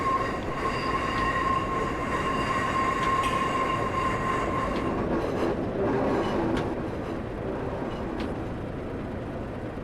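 Class 142 diesel train in Train Simulator 2015 rumbling steadily on the Darlington to Middlesbrough line, slowing toward Eaglescliffe, with a continuous loud engine drone, a sustained tonal whine and occasional wheel clicks.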